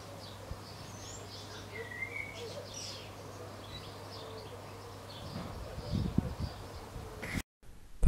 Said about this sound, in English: the local bee population seemed to love them as well